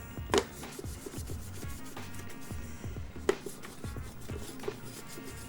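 The plastic of a Zelda game cartridge being cleaned, with soft rhythmic rubbing and scrubbing strokes close up, broken by a few sharp clicks or taps, steady and without talking.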